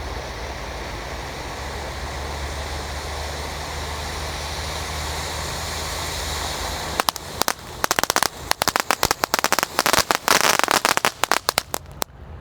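A steady hissing, crackling spray of sparks from a tikusan firecracker fountain runs continuously, then breaks into a dense burst of sharp pops and bangs toward the end.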